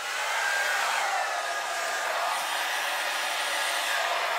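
A blower runs on poured acrylic paint in a Dutch pour, a steady, close, airy whir like a hair dryer that holds at an even level throughout, with no speech.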